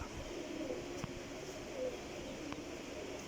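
Soft, low pigeon coos from Pakistani fancy pigeons drift over a quiet background, with a couple of faint clicks and knocks nearby.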